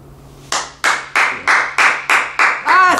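Hands clapping in a room, about eight sharp, evenly spaced claps in a steady rhythm, close and loud, with a short vocal exclamation at the end.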